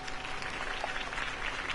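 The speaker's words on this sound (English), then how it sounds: "If only Mr. Wayne, my campaign's largest backer, could have heard that applause" Applause from a crowd after a campaign speech fills the moment, a dense, steady patter of clapping heard from a distance and fairly faint throughout.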